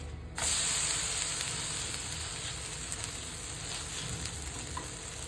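Semolina uttapam sizzling on a hot pan: a steady, close, bright frying hiss that starts abruptly after a brief quiet moment and holds evenly, with faint scraping and no talk.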